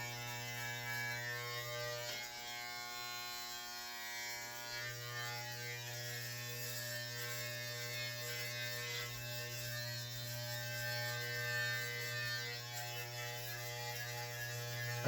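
Electric hair clippers trimming an old man's hair, a steady close-up motorized buzz with a constant hum that runs without pause, a faint ratcheting edge at times, and no talking.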